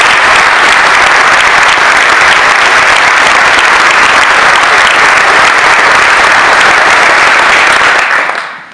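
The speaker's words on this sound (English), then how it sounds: "let's give her a big round of applause" Audience applause for a county executive at a speech in a community youth center in Solvay, loud, dense clapping sustained for about eight seconds before cutting off abruptly at the end.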